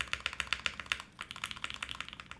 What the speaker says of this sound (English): The spacebar sounds too sharp.